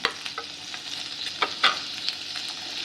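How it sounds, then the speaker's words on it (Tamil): Paneer frying and being stirred in melted butter in a pan for dhaba-style palak paneer butter masala: a steady sizzle with scattered sharper scraping stirs and crackles, close and moderately loud, no talking. "இப்போ பட்டர் நல்லா உருகிருச்சு. இப்போ இது கூட நம்ம வந்து பன்னீர் சேர்த்துப்போம்."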